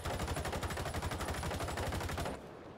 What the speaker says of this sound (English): If we spray upwards without compensating for the recoil